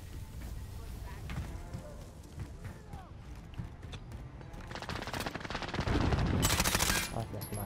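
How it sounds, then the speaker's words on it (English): Gunfire in a Call of Duty Modern Warfare deathmatch, rapid bursts crackling steadily and growing heavier and louder toward the end, with faint voices underneath. "They're shooting at me."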